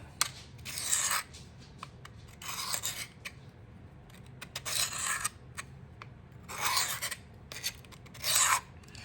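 A knife blade drawn along a sharpening rod held against an angle guide for outdoor camping use, heard as five separate dry rasping strokes spaced a second or two apart, close and fairly quiet, with no talking.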